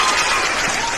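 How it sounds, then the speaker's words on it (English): Applause from a small audience after an acting performance, a dense steady wash of clapping lasting about a second, fairly loud and close, with no pauses. "Let's give her a round of applause."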